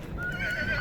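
A two-year-old horse standing over 1.5 m tall lets out a loud, sustained whinny at the Bishkek horse market, heard close and nearly alone.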